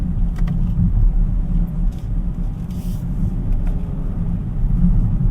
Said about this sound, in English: just hearing that inline 6 puts a smile on your face, despite it being a hybrid